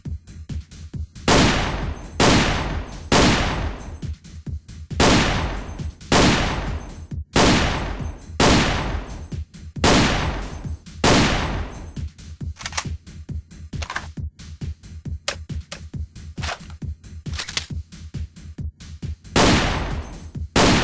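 A modded Nerf foam blaster fires a rapid series of loud, close sharp bursts in quick clusters, each a punchy snap with a hiss of air, repeating steadily across the whole stretch with no talking.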